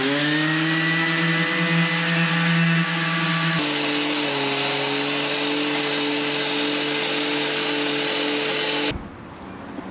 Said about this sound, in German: Ich schleife gerade das hintere Seitendeck ab